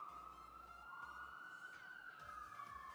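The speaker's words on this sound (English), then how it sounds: "I almost never hear a siren over here." A distant police siren wails outside, a steady rising and falling tone that stays faint but continuous under quiet low rumble, with muffled voices briefly in the background.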